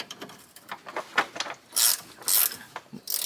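Metal clamps on a Jeep steering linkage collar are loosened with a hand tool, giving a series of sharp ratcheting clicks and scraping bursts, close and fairly loud, with no speech.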